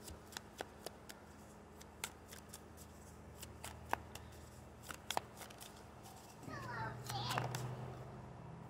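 Tarot cards are shuffled and drawn in a series of faint, sharp snaps and flicks, followed by a louder, steadier riffling shuffle near the end.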